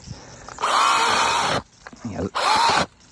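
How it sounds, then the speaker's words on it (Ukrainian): A Makita DUC150 cordless mini chainsaw bites into a log over 20 cm thick, with two loud bursts of buzzing cutting separated by a short pause where the motor bogs and a voice is heard. "А спробую ще надавити на пилу максимально."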